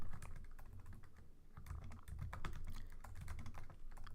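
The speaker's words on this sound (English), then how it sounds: "Sorry, my typing is not good." Close, rapid typing on a computer keyboard: a steady run of irregular clicks and key taps with no voices.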